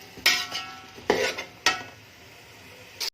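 Potatoes and peas being fried and stirred in a pot with onions, a spoon scraping the pot in several sharp bursts with a soft sizzle underneath between strokes.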